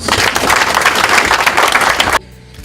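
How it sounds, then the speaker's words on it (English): A crowd bursts into dense, loud applause that keeps going for a couple of seconds before cutting off abruptly. "So I would really like us to give NAFDAC a round of applause."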